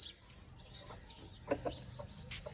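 Faint, short clucks from Aseel chickens, a hen and a rooster, rise briefly out of low outdoor background noise, with a couple of clearer bursts partway through.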